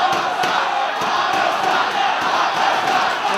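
A wrestling crowd at a Ring of Honor match between Homicide and Samoa Joe shouts and chants in a loud, dense, continuous roar with rhythmic bursts, filling the arena throughout.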